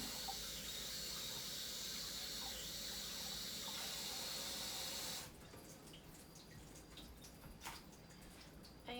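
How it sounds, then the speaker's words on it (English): Tap water runs steadily into a kitchen sink while chicken feet are rinsed for Jamaican soup, a continuous close splashing hiss that cuts off abruptly, leaving faint drips and clatter. "I'm gonna wash this off."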